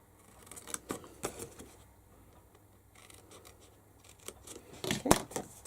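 Scissors snip through cardstock up to a score line on a Stampin' Up! Butterfly Gala treat package, a few close, crisp cuts with quiet pauses between them and a sharper snip near the end.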